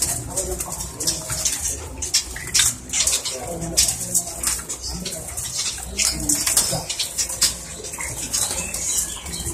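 Pigeons and doves at a bird breeding farm and shop, with repeated cooing and chirping calls plus occasional wing flaps, close and busy, while people talk nearby.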